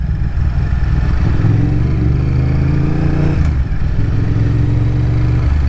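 A Honda VTR1000 motorcycle engine drones steadily and loudly while being ridden, a continuous low rumble with a brief dip partway through and wind noise over it.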